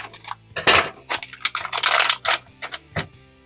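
Scissors snip and slice open the cardboard box of a Trendi Switch 1 Gang 100W LED dimmer, a close series of sharp cuts, crinkles and rustles in irregular bursts, with no talking.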